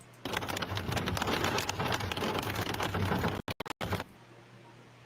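Heavy hail and rain pour down steadily during a powerful storm in eastern Spain, a dense roar on surfaces that drops out briefly near the end before resuming more faintly.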